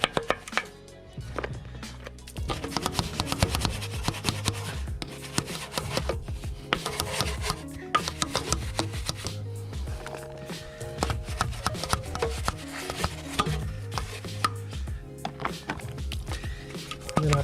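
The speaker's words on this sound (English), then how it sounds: "now I'm going to start scrubbing the brake discs" A brush scrubs the brake discs of a KIA with Brembo brakes during detailing, making a continuous, busy rubbing and scraping close by, with steady music in the background.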